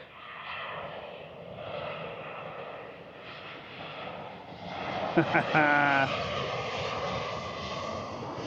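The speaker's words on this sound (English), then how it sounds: "There's a plane coming in, look." An airplane flies in to land over Puerto del Carmen, Lanzarote, its engine drone a steady, moderately distant roar that swells slightly, with people talking nearby in a brief burst partway through.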